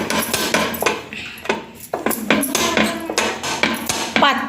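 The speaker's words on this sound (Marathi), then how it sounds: "आता आपण लाटून घेऊया." A rolling pin flattens karanji dough balls into thin rounds on a board, making close, repeated knocking and rolling strokes in a steady rhythm.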